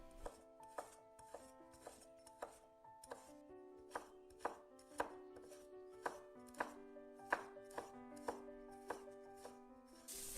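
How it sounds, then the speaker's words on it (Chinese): A knife chops ginger into mince and slices on a cutting board, about twenty sharp, evenly paced close strikes with a faint ringing tone between them, no voices. "切些姜末和姜片"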